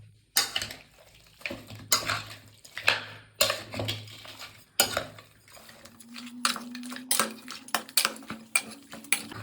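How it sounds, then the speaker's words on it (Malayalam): A spoon scrapes and clinks against a bowl while duck pieces are mixed with ginger, garlic and salt, a run of rhythmic knocks and scrapes up close. "അപ്പോൾ നന്നായിട്ടൊന്ന് ഇളക്കിയിട്ട് നമുക്ക് അടുപ്പത്തേക്ക് വയ്ക്കാം കേട്ടോ."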